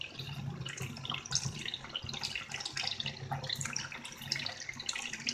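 Hot water runs from a tap into a sink for face washing, a steady, soft splashing and trickling that continues throughout, fairly close and quiet, with no talk over it.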